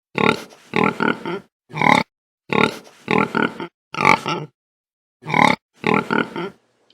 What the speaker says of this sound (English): Can you find the pigs?